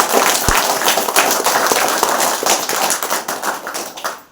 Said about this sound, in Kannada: ನಮ್ಮ ರಾಜಣ್ಣ ಸರ್ಗೆ ಒಂದ್ಸಲ ಜೋರಾಗಿ ಚಪ್ಪಾಳೆ.